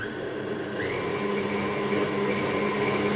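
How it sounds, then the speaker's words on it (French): An electric mixer beating egg yolks, a steady, loud motor whine that shifts upward in pitch early on and then holds continuously. "ça fait un peu de bruit, mais je vais vite fait mélanger les jaunes."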